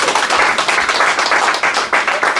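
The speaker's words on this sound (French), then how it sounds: "on peut l'applaudir très fort." A crowd at a community association event applauds loudly and densely, a dense wash of hand claps held steady from start to finish.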